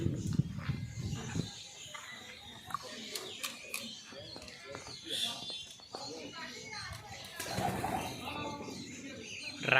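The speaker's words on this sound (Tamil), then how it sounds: "இங்கேயும் புறா தான். Short face." Short-faced pigeons in a cage at Rajali Birds Park coo softly and flutter their wings amid ambient chatter, with voices talking nearby throughout.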